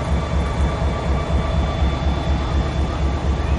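A Vermont Railway locomotive gives a steady, loud rumble with a deep droning hum and faint tonal whine, continuous and close, no voices.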